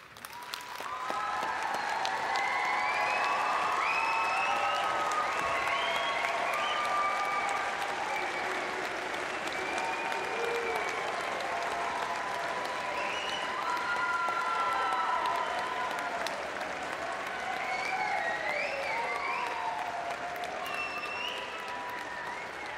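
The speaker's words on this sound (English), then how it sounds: "let's give them a warm applause." A large graduation audience, at a college fall commencement, applauds the standing alumni class of 2017, producing a steady, dense wash of clapping that holds for over twenty seconds, with a few faint cheers rising above it.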